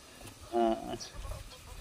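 A brief chicken cluck rises clearly over faint background noise near the Cabag and Cave Falls, with a few softer sounds around it.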